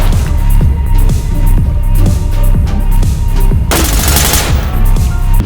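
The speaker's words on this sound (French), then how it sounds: "Ça tire derrière" Gunfire in the tactical shooter Ready or Not: loud, rapid bursts of automatic fire cracking close by in fast rhythmic volleys, with a sharper, denser burst of shots near the end.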